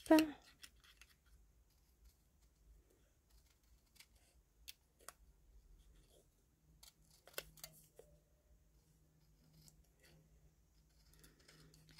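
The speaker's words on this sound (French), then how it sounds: "On va découper une petite fraise." Scissors snipping paper to cut out a small strawberry shape for a pouch craft, giving faint, sparse clicks and snips scattered through an otherwise quiet stretch, with a louder handling noise at the very start.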